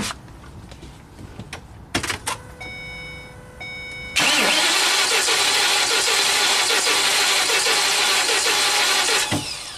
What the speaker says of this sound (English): let's do a wide open throttle clear flood crank here